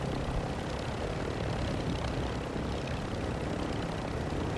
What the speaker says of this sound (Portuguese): Tá pesadão o helicóptero